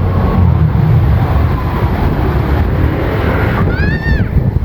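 Strong, cold gusting wind roars steadily into the microphone outdoors in bad weather, a dense continuous rumble with a brief high whistling tone near the end.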